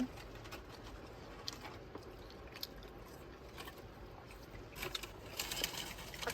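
Light rain patters and ticks on a car body in Sweden, a soft irregular drizzle with scattered drops, quiet and close.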